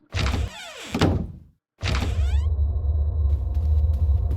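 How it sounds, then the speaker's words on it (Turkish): A door opens in the Roblox horror game Start Dark Survey with a heavy mechanical thunk and a sliding rumble, a brief gap of silence, then a second grinding slide that settles into a low sustained rumble with a thin whine. "Hadi kapıyı açak."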